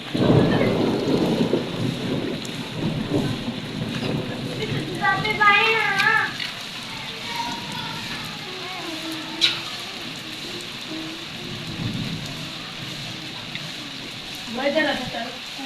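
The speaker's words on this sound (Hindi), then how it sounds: "ओ देखिए जी बारिश कितनी तेज स्टार्ट हो चुकी है।" Heavy rain pours steadily during a storm, with a sharp thunder crack partway through and a soft rumble near the start, while people talk nearby.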